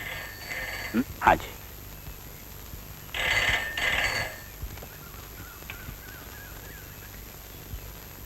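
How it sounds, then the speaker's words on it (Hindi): An old telephone rings in a quick double burst, with a few spoken words and quiet room sounds around it. "बेटा जरा फोन देखो तो।"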